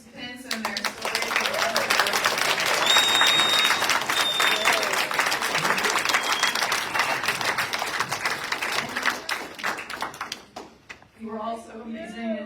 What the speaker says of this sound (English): Everyone, please join me in applauding for all of our participants and their stories.